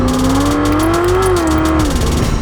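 A 1966 Ford Mustang V8 engine rumbles steadily up close, its deep tone rising slightly and then settling as the revs shift, loud and continuous with no talking.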